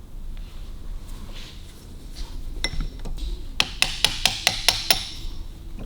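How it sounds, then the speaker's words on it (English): A hammer taps a bearing out of a Harley-Davidson 32E generator casing: a few scattered knocks, then a quick run of about seven sharp metallic taps, close and clear over faint workshop background. "Right, let's tap that bearing out."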